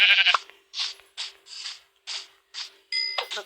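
A goat in the Minecraft video game bleats about seven times in short, evenly spaced cries, loud and close, with no talking over it.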